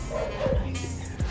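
Dogs barking and yipping nearby in a few sharp bursts, with a whimpering tone between, fairly faint over background noise.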